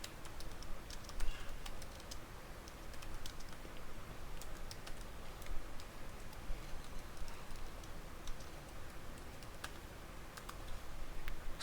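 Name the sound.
typing Java code on a computer keyboard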